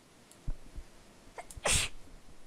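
A single sharp sneeze from a person bursts out near the end, preceded by a few soft breaths and small handling noises in an otherwise quiet room.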